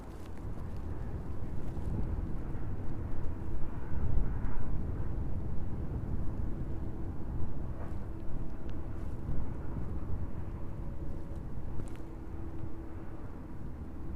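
Steady low wind rumble buffets the microphone throughout on a cold, windy evening at East Midlands Airport, with a faint distant engine hum beneath it.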